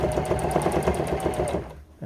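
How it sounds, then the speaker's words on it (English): A Singer HD500 Classic sewing machine running a reverse stitch, with a close, steady rapid needle clatter in an even rhythm for nearly two seconds before it stops abruptly. "we want to start off by doing a reverse stitch on it"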